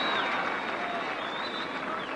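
Crowd at a 1983 club rugby match between Newbridge and Llanelli applauding and cheering, a broad steady wash of clapping from a large distant crowd throughout.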